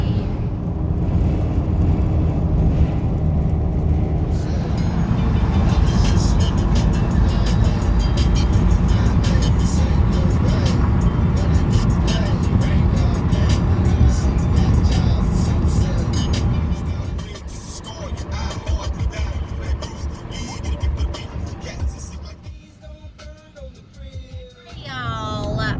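A car drives through a small country town, heard from inside the cabin as a steady low road rumble and engine whir that eases and thins toward the end.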